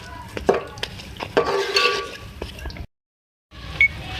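A spoon scrapes and clinks against a pot while chicken balti gosht with chopped coriander is stirred, irregular close knocks and scraping, a brief silent gap, then more clatter.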